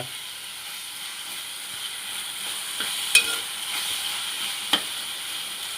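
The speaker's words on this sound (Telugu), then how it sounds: "మెంతికూరని ఇలా కలిపి కొంచెం ఎంత ఉడికితే అంత మంచిది" Fenugreek leaves and onion cook in a pan with a soft, low sizzling hiss, broken by a couple of sharp clicks from stirring.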